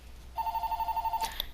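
A telephone rings with a rapid electronic trill of about a dozen even pulses in one short burst, heard faintly in the background of a quiet room.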